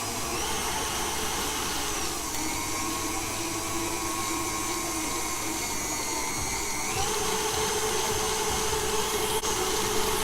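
Electric stand mixer whirs steadily while mixing white chocolate chip and macadamia nut cookie dough, a loud continuous motor drone up close with slight shifts in pitch.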